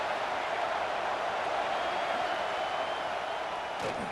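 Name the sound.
football stadium crowd noise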